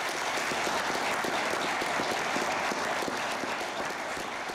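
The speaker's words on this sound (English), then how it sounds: "Claps of celebration came from our nation's capital" Sustained, dense applause from a large crowd celebrating in the U.S. capital as international power energy companies reach an agreement, a steady even wash of many hands with no pauses, loud and continuous throughout.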